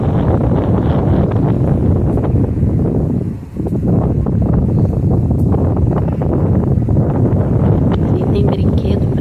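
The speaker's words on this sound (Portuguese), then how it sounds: "Tá ventando bastante aqui" Heavy wind at Lagoa do Boqueirão in Maricá, Rio de Janeiro, buffets the microphone in a dense, roaring rush that barely lets up, with only a brief dip before the gusts surge back.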